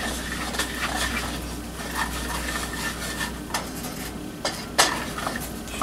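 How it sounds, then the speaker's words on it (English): Flour being stirred into smoke-flavored sausage gravy in a pan, with steady scraping and clinking of a utensil against the metal over a low background hum, a few sharper knocks standing out, no talking. "Stir till that's all incorporated."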